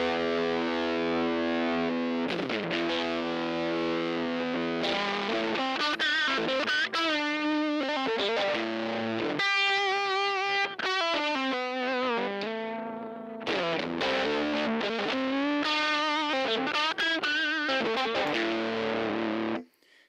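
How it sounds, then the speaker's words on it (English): Electric guitar played through a small Little Bear Fuzz pedal with the distortion knob turned up, loud, saturated chords and riffs ringing continuously with brief gaps, played alone. "now let's start messing with the distortion knob here"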